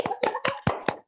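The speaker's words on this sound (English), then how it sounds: "can we give one more applause to him" Five distinct hand claps in an even rhythm, close and crisp, applauding a guest named Pak Willy during an online conference, picked up by a single nearby microphone with no talk.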